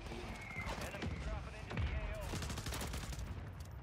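Bursts of gunfire from a no-recoil meta weapon build in a first-person shooter, rapid shots in quick clusters with sharp cracks, moderately loud beneath ongoing game sounds and voices.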